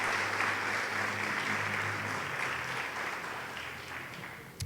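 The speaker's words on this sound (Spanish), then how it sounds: "¿Cuántos aplauden en esta mañana a nuestro Dios?" A church congregation applauds during a Sunday morning service, a dense, steady wash of clapping that starts loud and slowly tapers over several seconds before a brief sharp sound at the end.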